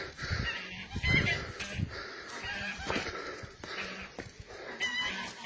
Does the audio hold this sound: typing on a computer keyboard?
no